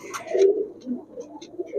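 Giribaj high-flyer pigeons coo softly at close range, a steady low burbling with a few brief brighter chirps over faint background noise.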